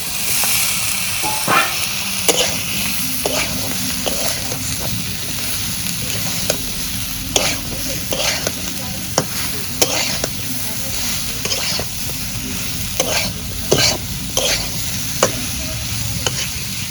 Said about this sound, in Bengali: এখন আমি পটল যে ভাজা রাখছিলাম এখন দিয়ে দিই।